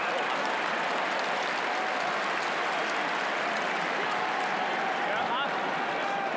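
Stadium crowd at a night AFL football match between Geelong and Adelaide in 2017, a steady loud roar of cheering and applause throughout, with commentary voices over the top.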